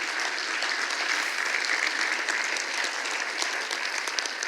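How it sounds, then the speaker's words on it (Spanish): Church congregation applauding steadily during a Spanish-language service marking a sixteenth anniversary, a dense, even wash of clapping from many hands that holds at a constant level throughout, with no voices standing out. "dale un aplauso al Señor."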